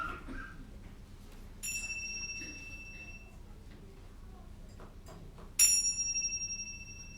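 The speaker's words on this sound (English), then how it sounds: "now let us center our hearts and minds with the ringing of the chimes" Chimes rung to open a church service sound two separate bright, ringing strikes, each sustaining and slowly fading over a quiet room with low background hum.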